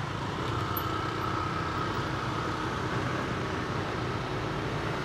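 Congested road traffic near the beaches of Kuta, a dense steady drone of idling and creeping cars and motorbikes, moderately distant and continuous with no talk.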